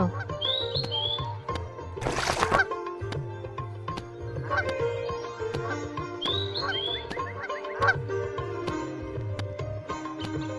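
Large geese honk and squawk repeatedly in a Bangla children's cartoon, sharp calls over a steady musical background with a brief loud burst near the middle.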